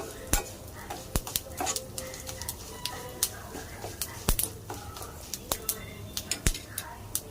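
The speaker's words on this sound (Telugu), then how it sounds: "ఫ్రై అయ్యేదాకా ఒకసారి నేను మాడిపోకుండా గెరిటితో కలుపుకుంటూ ఉన్నాను" Ivy gourd masala curry fries in a pan and is stirred with a spatula: repeated sharp metallic taps and scrapes at an irregular pace over a soft background sizzle.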